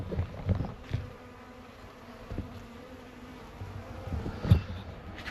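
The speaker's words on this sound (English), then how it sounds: "There's a colony of bees somewhere found all these wet supers." Bees from a nearby colony buzz faintly around stacked wet honey supers outdoors on a mild day, a low steady insect drone with a few louder passes close by.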